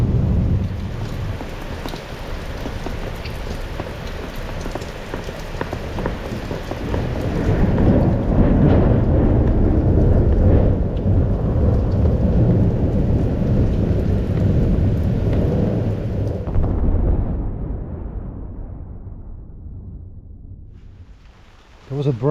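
Heavy rain pours steadily with deep rolling thunder during a late-afternoon storm at a tent campsite, swelling loudest midway before the roar thins and fades toward the end.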